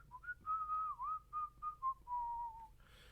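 A melodic tune whistled solo, about the Harlem Globetrotters' theme song, with sustained and sliding notes in short phrases, close and clear, ending with a brief noise.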